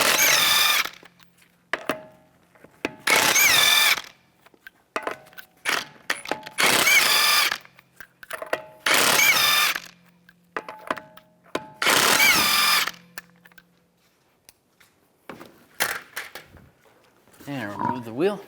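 Power tool spinning lug nuts off a 2011-2015 Chevrolet Cruze wheel with a 19mm socket, several loud bursts of whirring and rattling separated by pauses, close by, ending with a few lighter clicks and handling noises.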